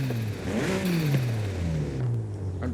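A car engine in Forza Horizon 5 on stock intakes revs continuously, its pitch rising and falling through gear changes, loud and close with no talking.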